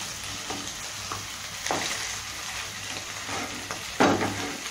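Pav bhaji masala sizzles and fries in a pan, a steady low hiss with a few scraping stirs, the last one the loudest near the end, close up and with no one speaking.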